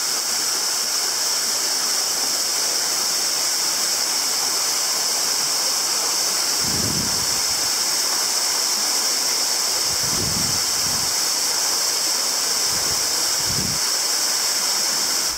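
A waterfall roars steadily in a gorge in Australia, a broad, constant rush of falling water with a few low thumps of wind on the microphone.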